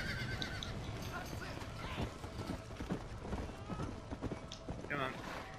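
A horse in the video game Red Dead Redemption clip-clops along with snorts and a whinny, its hoofbeats and game sounds running close and steady beneath a voice talking over it.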